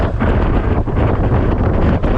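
Steady countryside wind buffeting the microphone, a continuous broad rumbling rush with slight gusts, loud and close, no voices.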